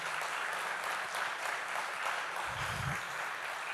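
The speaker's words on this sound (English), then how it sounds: "can we give a round of applause to them?" A conference audience applauds the organizers with dense, steady clapping from many hands that holds at an even level throughout.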